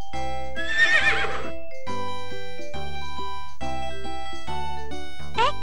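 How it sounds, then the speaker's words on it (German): Horse whinny and clip-clopping hooves from the Dora V.Smile video game, a loud neigh rising early over sustained synthesized music chords, with a bright jingle near the end. "Das Pferd, the horse, klingt so."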